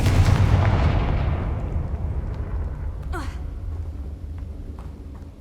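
Confringo fire spell blast in Hogwarts Legacy: a loud booming explosion at the start, then a long rumbling decay with a brief rising whoosh and faint crackles as it fades.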